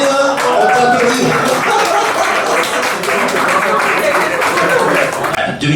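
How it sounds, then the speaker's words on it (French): An audience at an awards evening applauds Caroline with loud, close, sustained clapping, sharp individual claps standing out, while voices carry on over the top. "Bravo Caroline, on t'applaudit."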